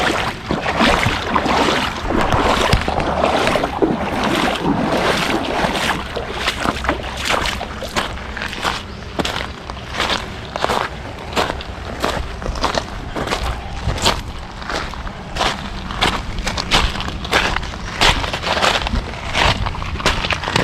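Fast-moving stream water on the North Branch Saline rushes in a dense, steady wash close by, with frequent sharp splashes and knocks scattered throughout and no voices.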